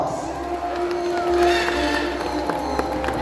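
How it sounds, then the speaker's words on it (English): Crowd at a bird show featuring flying macaws breaks into steady applause and scattered cheering, a continuous wash of clapping with children's voices mixed in. "A round of applause for our flying macaws"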